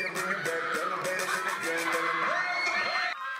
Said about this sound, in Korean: 여기저기 환호성이 터져나오는 객석